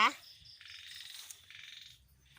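Frogs croaking near a Thai farm at dusk after heavy rain, a dense chorus of repeated rapid calls running through the clip, fairly close, with low background noise beneath.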